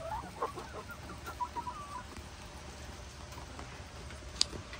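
A flock of chickens gives a few soft, scattered clucks early on, then settles into a faint, steady background hum with a single sharp click near the end.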